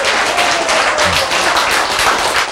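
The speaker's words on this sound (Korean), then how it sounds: "아, 박수!" A lecture audience applauding, a dense, even wash of many hands clapping that holds steady and fairly loud for the whole stretch.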